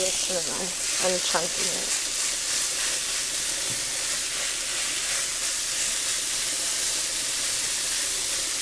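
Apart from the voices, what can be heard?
beef frying and sizzling in a pan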